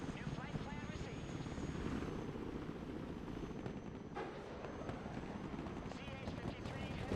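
Military aircraft in the video game Broken Arrow, including an Osprey tiltrotor, give a continuous dense rotor and engine roar that holds steady at moderate level throughout, with no speech.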